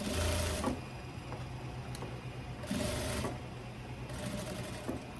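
A sewing machine topstitches tailoring fabric in quick rhythmic bursts, the needle chattering steadily with short pauses between runs, close and clear.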